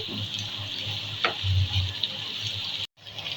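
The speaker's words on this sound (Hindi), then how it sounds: "ये मैंने 1 पाव के करीब प्याज ले ली है, बारीक बारीक चॉप कर ले से। इसे हम फ्राई कर लेते हैं।" Finely chopped onions fry in a pan with a soft, even sizzle, a low hum underneath and a faint clink midway, before a brief cut near the end.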